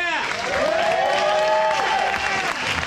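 An audience at a smoking and tasting event claps in a dense, steady round of applause close by, with a voice speaking over the clapping.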